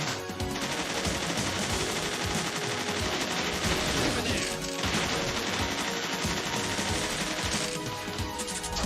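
Machine gun fire in the video game Bot Vice, dense rapid bursts rattling almost nonstop for several seconds with crashing impacts mixed in, loud and close.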